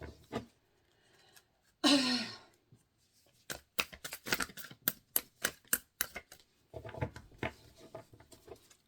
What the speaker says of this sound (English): The only thing with these is they're huge, so I don't shuffle them very well.